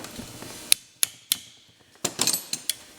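Pin spanner tightening a part on an MGB overdrive unit during a rebuild: a handful of sharp metallic clicks and taps, some spaced, then a quick cluster, close and crisp.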